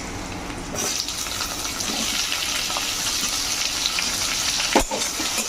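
Chopped tomatoes dropped into hot oil in a pan while cooking a Bengali cauliflower and prawn curry, giving a steady close sizzle and hiss with a brief clatter near the end.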